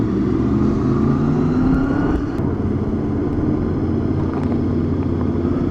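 Motorbikes riding along a road in Cornwall make a loud, constant engine drone with a slight shift in pitch, close and steady from start to finish.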